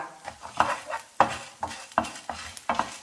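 Fenugreek seeds go into hot ghee over a medium-to-low flame while making ghee rasam, with soft sizzling under repeated stirring and scraping of a utensil against the pan, in regular close strokes.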